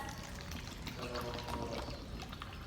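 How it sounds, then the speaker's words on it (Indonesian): Syrup pours from a bottle into a glass: a quiet, continuous liquid stream with a soft trickling, filling texture, steady for under three seconds with no talk over it. "Ibu masukkan ke dalam gelas,"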